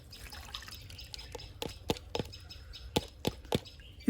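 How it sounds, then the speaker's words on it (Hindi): Water drains off soaked bottle gourd seeds in a series of separate drips and small splashes, close and fairly quiet, arriving in an irregular rhythm over a low background with no speech. "हम इसमें से पानी पहले निकाल लेंगे"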